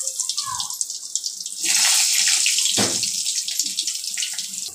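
Chillies dropped into hot oil with asafoetida in a pan, a bright hissing sizzle that swells suddenly midway and keeps crackling steadily, close and fairly loud.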